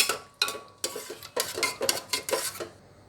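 Curd being stirred into mashed ingredients in a pot: a spoon scrapes and knocks against the metal in a steady rhythm of about seven strokes, with clinks and a faint wet squelch, close by and quiet, and no voices.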